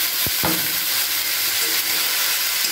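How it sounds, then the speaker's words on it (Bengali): Spice paste with tomato, ginger and green chilli frying in a pan, a loud steady sizzle and hiss with a couple of brief stirring knocks near the start. "এবার খুব ভালো করে মশলাটা দিয়ে কষিয়ে নিচ্ছি।"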